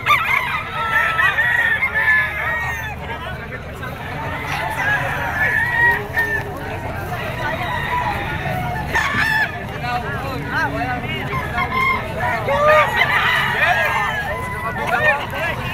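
Gamecock roosters crow repeatedly at a Padre Garcia, Batangas auction market, with several birds calling over and across one another amid clucking and constant crowd chatter and talk.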